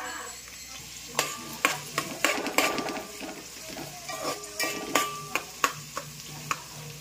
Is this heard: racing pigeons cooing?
no